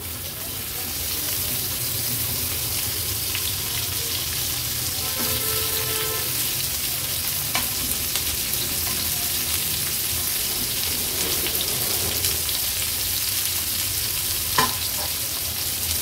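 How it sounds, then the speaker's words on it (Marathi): Stuffed okra (bhindi) frying in about two tablespoons of oil on an iron tawa over a medium flame, giving a steady, fairly loud sizzle that runs the whole time with a few faint clinks. "आता ही जी भरलेली भेंडी आहेत ना, ही आपण तव्यामध्ये सोडूया."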